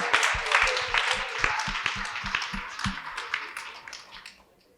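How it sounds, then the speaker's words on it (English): A live talk-show audience clapping on the host's prompt, a dense burst of applause with rapid overlapping claps that fades out toward the end. "clap if you think we would still need to have this conversation"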